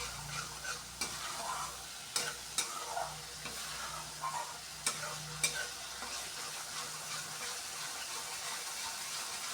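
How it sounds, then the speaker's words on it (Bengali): Ground spices stirred and fried in oil in a pan, a steady low sizzle under a series of sharp scraping stirs that come in spurts and then fade into a quieter sizzle. "মশলা থেকে তেল ছেড়ে আসছে, খুব ভালো করে মশলাটাকে কষিয়ে নিচ্ছি।"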